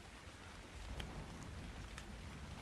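Steady rain falls in the survival game ARK, a soft continuous hiss with faint thunder-like rumbling low in the background, fairly quiet and with no voices.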